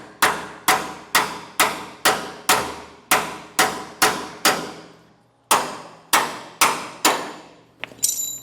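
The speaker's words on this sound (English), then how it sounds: "I'll usually use a punch, and we'll get it out the rest of the way" A hammer repeatedly striking a punch to drive out a bolt from a utility trailer leaf spring, about fifteen sharp ringing metallic blows in a steady rhythm with a short pause, loud and close.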